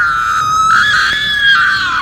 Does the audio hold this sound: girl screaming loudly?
yes